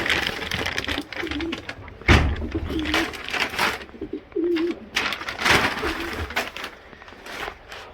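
Young racing pigeon cocks coo repeatedly inside a loft, their soft, rolling calls mixed with close clattering and scuffling of birds moving about.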